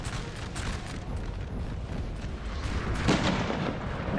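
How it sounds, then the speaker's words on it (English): Howitzer artillery fire booms in a Napoleon Total War 3 battle game, dense overlapping blasts and rumbling impacts forming a continuous noisy barrage with a louder burst near the end. "howitzers still firing, really focusing down that cavalry"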